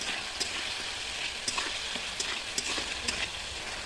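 Spice masala with salt is stir-fried in a pan for a green cauliflower, egg and potato curry. A continuous close sizzle runs throughout, broken by regular clicks and scrapes from a spoon stirring the paste.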